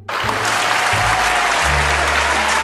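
A crowd gives a standing ovation, dense, loud, continuous clapping that fills the whole stretch, close and unbroken.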